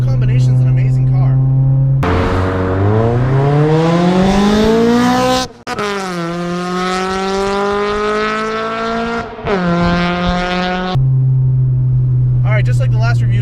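B18-swapped Honda Civic EG coupe driving hard, its engine note climbing steeply through the revs, cutting sharply for gear changes and pulling again, loud and close before settling to a steady idle hum.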